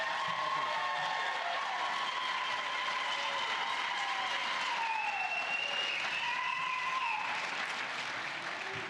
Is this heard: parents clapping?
yes